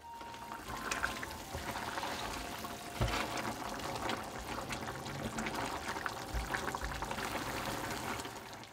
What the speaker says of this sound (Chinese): 再咕嘟1分钟